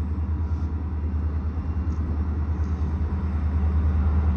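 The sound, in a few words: EMD diesel locomotive of the Dallas Garland and Northeastern passing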